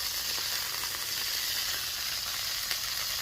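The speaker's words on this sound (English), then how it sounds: "we're going to get the all beef frank laying down in there" An all-beef hot dog sizzles in brisket tallow on a VEVOR 22-inch tabletop griddle, with a dense, steady crackling fizz that carries on evenly and close up, with no voices.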